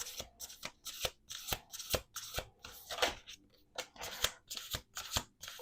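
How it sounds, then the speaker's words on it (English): A deck of cards shuffled repeatedly, close up, in a quick series of crisp riffling bursts and bridge snaps with short pauses between them. "Last shuffle."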